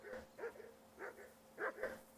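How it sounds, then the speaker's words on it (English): A dog barks in a medieval village setting within the Kingdom Come Deliverance 2 video game, several quick distant barks in two short clusters, faint and with no talk. "I assume you can hear that damn dog of yours barking."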